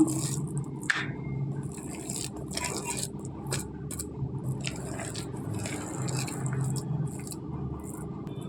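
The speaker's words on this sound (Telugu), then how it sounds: "ఇప్పుడు ఈ బౌల్లోకి తీసుకుందాము" Ground raw prawn vada batter is scraped out of a mixer jar into a bowl, giving close, wet squishing and scraping sounds with occasional light knocks, continuous and fairly even.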